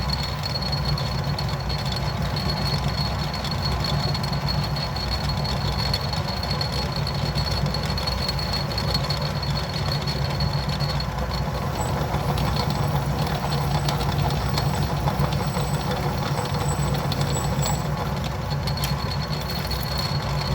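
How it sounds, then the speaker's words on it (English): An Atlas 10-D metal lathe cuts a spindle thread protector, a steady, close mechanical hum with a rhythmic chugging pulse running throughout, no voices. "You can hear it chugging while it's plowing through all that material."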